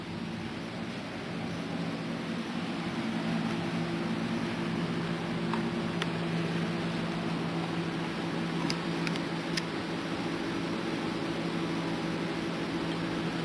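A Marantz M22XDL machine runs steadily after powering up, a constant broadband hum with low tonal drones and a few faint high whines, heard alone with no talk.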